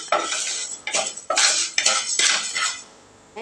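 Raw rice and moong dal being dry roasted in a pan, with bursts of scraping and rattling from a spoon against metal, a handful of loud stirring strokes in quick succession before a short pause.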